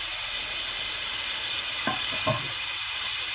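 Tomatoes, ginger, garlic, garam masala and chili cook in a pan with softening onions for chana pulao, a steady sizzle broken by two brief stirring scrapes.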